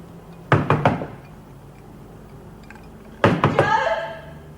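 Knocking on a door, heard as two separate bursts of three quick, solid knocks, fairly close and loud, with a quiet gap between the bursts and no talking.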